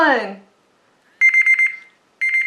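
A voice speaks briefly, then a shrill electronic timer alarm beeps in rapid pulsing bursts, stopping and starting again.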